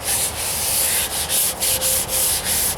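Hand sanding of a car trunk's painted surface with 600 grit sandpaper, on a 1998 Toyota Corolla under a rattle can paint job: steady rhythmic rubbing strokes, close and fairly loud, about seven back-and-forth passes with no talking.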